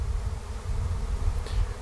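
A swarm of honey bees gives off a dense, continuous low buzz that stays steady and close throughout.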